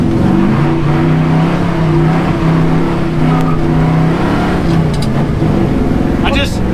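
A pickup truck on a test stand spins its tires in a burnout, engine roaring and revving loudly and steadily up close, with brief squeals toward the end.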